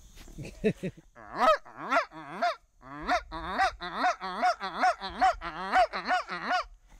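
A person imitates goose honks using mouth and hands, loud and close, in a quick steady series of nasal honking calls after a brief pause.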